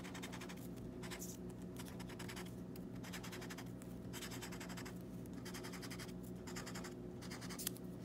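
A marker draws squiggly lines on a sheet of paper, making a steady close scratching with short rhythmic strokes and brief pauses, quiet and without speech.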